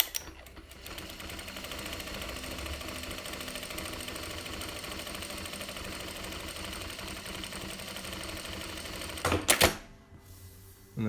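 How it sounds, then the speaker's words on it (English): A Jack industrial sewing machine with stepper-motor reverse control runs a programmed pattern of reverse stitches, giving a steady, close mechanical hum-and-clatter for about nine seconds, then a brief louder burst as it finishes and goes quiet. "the stepper motors are controlling the reverse function on this, which is what is allowing it to do these reverse stitches"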